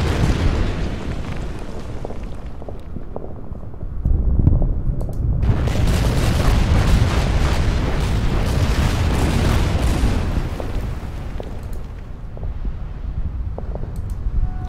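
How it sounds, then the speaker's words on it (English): Artillery shots and explosions fired at an anti-tank gun in the Order of Battle strategy game, a steady wall of booming blasts that swells loudly around the middle and continues without speech. "Let's take a shot at the AT gun. And another shot at the AT gun."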